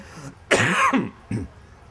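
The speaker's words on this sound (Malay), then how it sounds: "batuk pula." Two coughs: a loud, harsh, drawn-out one followed by a short, softer cough after a brief pause, close by with no talking.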